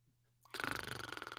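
Snoring with a rapid rattling, pulsing rhythm starts abruptly after a quiet moment and continues steadily, fairly faint, with no talk over it.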